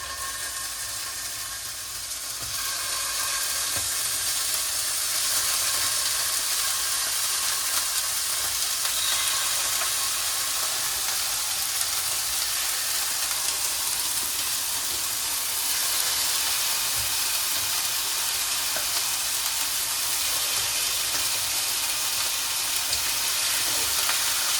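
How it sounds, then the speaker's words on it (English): Chicken wings, scored with two slices, frying in hot oil: a steady loud crackling sizzle that swells after a couple of seconds and holds unbroken, with bubbling hiss and no talking. "Fry to both sides, getting the golden brown."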